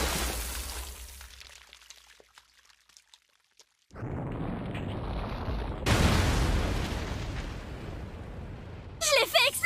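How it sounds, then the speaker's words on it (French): An explosion in an animated episode: after a quiet lull, a sudden loud broadband blast erupts and roars on, swelling again midway, with a brief bright burst at the end. "Je l'ai fait exploser!"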